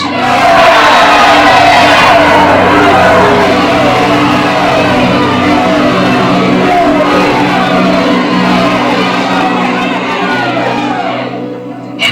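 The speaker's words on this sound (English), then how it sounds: "The crowd shouted even louder, "Away with this man! Release to us Barabbas!"" An angry crowd in an audio drama roars and shouts together in a dense, loud mass, demanding Barabbas be released; the clamour holds steady for about eleven seconds before dropping away abruptly.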